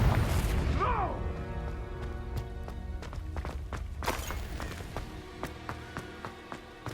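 Confringo blasting curse from Hogwarts Legacy erupting in a deep booming explosion with a descending whoosh, followed by scattered thuds, footsteps and crackling debris, with a brief voice at the start.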